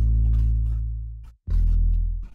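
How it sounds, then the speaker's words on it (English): Deep sustained sub bass line from an electronic pop remake, loud and continuous, dropping out briefly before returning at full level and fading slightly toward the end. "Wait, the bass sounds like this"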